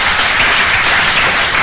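A congregation applauds during a church service, giving loud, dense, continuous clapping close by that fills the whole moment without a break.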